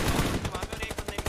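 Rapid automatic gunfire rattles in regular bursts in a battle royale video game, loud and close, with no talking over it.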